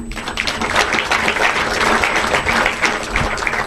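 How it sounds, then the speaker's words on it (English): Sustained, dense applause from an audience at a talk by an army colonel about the Kargil war, loud and steady throughout with no speech over it. "thank you for your applause"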